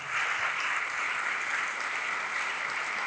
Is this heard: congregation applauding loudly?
yes